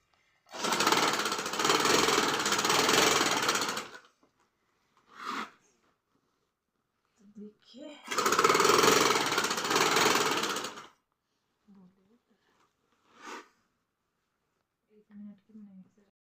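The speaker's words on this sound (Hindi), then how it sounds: "तो मैं कर रही हूँ अभी भी सिलाई का काम" Sewing machine stitching a suit in two long, loud runs of steady mechanical whirring, each lasting about three seconds, with short thumps and faint handling noises in the pauses between them.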